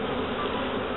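A honeybee buzzes close and steady during a beekeeping workshop, a continuous droning hum with no pauses.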